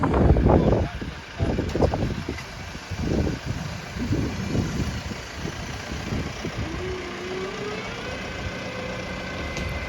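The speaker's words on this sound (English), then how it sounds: "it's just someone in tractor reversing it every couple of seconds" Tractor engine reversing a caravan onto a pitch at a holiday park, a mid-range motor idling and revving in short repeated surges nearby, with a brief rising whine later on.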